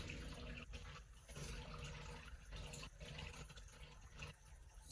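Acrylic paint being poured back onto an artwork, a soft continuous liquid trickle and splashing flow with brief pauses, fairly faint and without speech.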